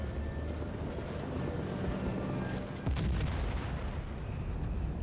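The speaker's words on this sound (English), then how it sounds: "That's a fucking air raid." Air raid in Battlefield 1943 brings a barrage of heavy booms and explosions rolling over a base, dense and loud, with a sharp blast near the middle and continuing rumble after.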